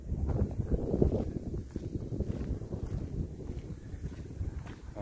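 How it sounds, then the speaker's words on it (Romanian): Wind blows across a fishing pond with stocked basins, a steady low rushing buffet against the microphone, close and continuous with no talk. "bate vântul"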